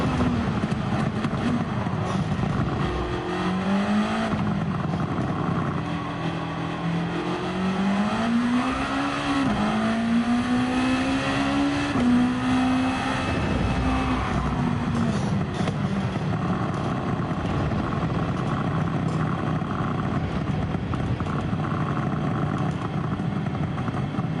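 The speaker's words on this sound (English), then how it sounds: "burbles of the exhaust. Sounds cool." Race car exhaust popping and burbling as the engine revs rise and fall in Gran Turismo 7, loud and close, with a sweeping engine tone that climbs and then settles over a steady mechanical drone.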